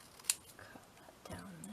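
Scissors cutting paper for patchwork paper tags, two sharp close snips about a second and a half apart, soft and quiet, with a low voice murmuring between them.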